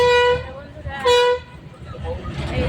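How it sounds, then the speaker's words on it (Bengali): A train pulling into a busy Pune station gives a loud, sustained horn blast, a short pause, then a second blast, with platform rumble and crowd noise continuing afterward. "ট্রেন আসছে, বললাম না এদিক থেকে আসবে ওদিকে যাবে"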